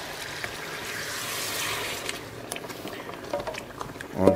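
Water rinsed out of a bowl is tipped into a frying pan of schaschlik drippings, giving a soft trickling pour that swells then fades, followed by a few light clinks and scrapes.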